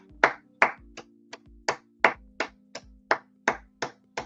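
Slow, evenly spaced claps from a single pair of hands, about a dozen sharp strikes close by, with a faint steady hum underneath and no talking.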